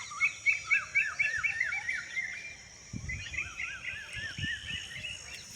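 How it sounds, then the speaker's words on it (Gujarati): Small birds sing in a farm field at evening, with repeated rising chirps and trills at moderate distance, plus a few scattered low thumps and rustles beneath. "વાતાવરણ જોવો અને પક્ષીઓનો અવાજ સાંભળો."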